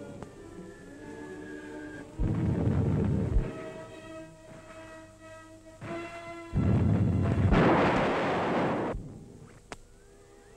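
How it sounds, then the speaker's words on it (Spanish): Artillery fire from a 1937 Spanish Civil War newsreel: two long, loud, rumbling bursts, each lasting a second or more, rise over a steady tonal background, followed by a faint sharp crack near the end. "La artillería, con sus certeros disparos, protege el avance de nuestras máquinas de guerra."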